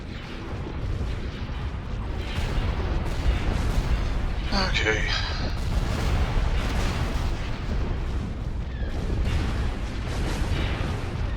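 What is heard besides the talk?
turbo lasers firing in Star Wars strategy video game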